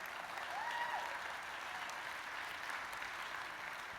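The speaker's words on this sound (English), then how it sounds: "Big round of applause to the sponsors, please." Conference audience at a keynote applauds for the sponsors, a steady, fairly distant wash of clapping across a large hall, with no one speaking over it.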